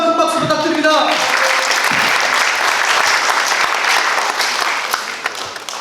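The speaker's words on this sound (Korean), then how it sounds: "유동삼 실장님께 다시 한번 큰 박수 부탁드립니다" A big round of applause at a new union members' training session, loud sustained clapping from a crowd that starts just after a brief musical tone and tapers slightly toward the end.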